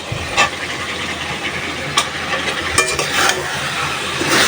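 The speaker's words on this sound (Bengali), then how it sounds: "মশলাটা লবণ সব কিছু দুই তিন মিনিটের মতো কষাবো" Spices and fish (tengra) sautéing in a pan, a continuous hissing fry with intermittent scraping stirs, close and fairly loud.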